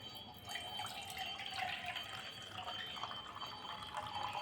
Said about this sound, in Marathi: आता हे एक भांडं घेतलेलं आहे आणि ह्याच्यामध्ये मी ह्याचं पाणी काढून घेते.